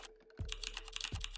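Rapid clacky keyboard typing sound effect, a quick run of crisp keystrokes with two heavier thocks, close and clear with no talking.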